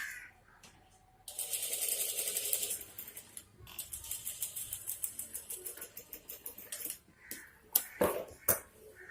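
Sewing machine stitching a blouse, its needle running in fast rapid bursts with rhythmic mechanical clatter, pausing and restarting, with a few sharp clicks near the end and no talking.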